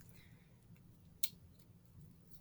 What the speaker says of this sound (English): I just cut it out of the package.